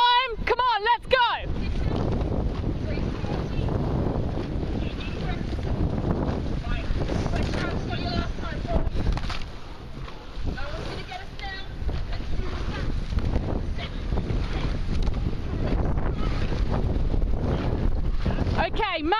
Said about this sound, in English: Don't worry about the wind.